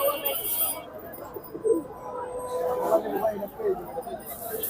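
Silver Bagha pigeons coo softly among other birds at the Kaptan Bazar pigeon market, with soft chirps and clinks under people talking nearby.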